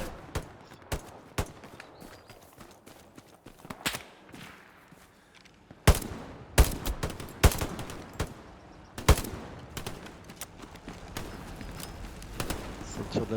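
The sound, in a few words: gunfire from the left in a video game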